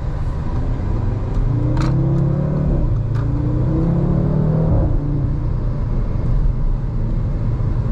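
An Audi RS3 with a DSG gearbox accelerates hard from inside the cabin, its engine note climbing in rising sweeps broken by quick gear shifts with sharp crackles, over a continuous road rumble, with no talking.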